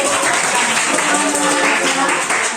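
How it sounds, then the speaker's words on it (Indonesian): Students in a classroom clap for themselves, a dense, loud burst of many hands that holds steady for a couple of seconds, with faint chatter mixed in. "Oke, tepuk tangan untuk diri kita sendiri."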